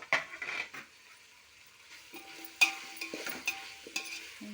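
Chopped potatoes tipped into a pan of frying vegetables, with a spoon stirring and scraping against the pan over a soft sizzle, several sharp clatters standing out.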